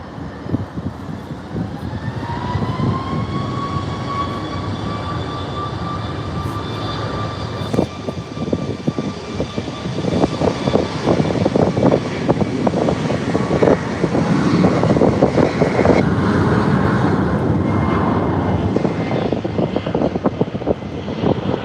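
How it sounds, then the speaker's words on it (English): Air Transat Airbus A321neo LR jet arriving from Montreal, a loud sustained engine roar with a whining tone that swells and rumbles on as the aircraft passes, buffeted by wind noise. "Air Transat 640 coming from Montreal on an A321neo LR."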